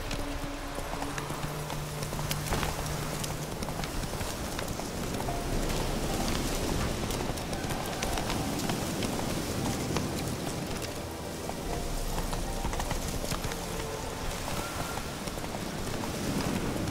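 Roach, the horse in The Witcher 3, gallops with continuous hoof clatter under heavy rain, a dense steady wash of hoofbeats and downpour lasting throughout, with no clear speech.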